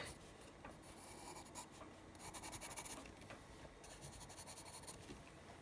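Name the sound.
drawing with a hard charcoal pencil on paper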